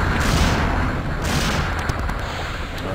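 Rapid gunfire in Resident Evil 3: Nemesis, including Magnum shots, crackles and booms continuously in a dense, sustained barrage, loud and close, with sharp high clicks and bursts layered over a heavy low rumble.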